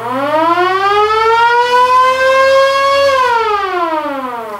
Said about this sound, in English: There are some pedals down here, the first one being a police siren or fire siren.